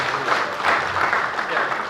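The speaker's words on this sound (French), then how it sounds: "Applaudissez le bureau des clubs des comptables du Sénégal" Brief burst of applause from an audience in Senegal greeting the accountants' club board at its official launch, dense and fairly close, lasting under two seconds.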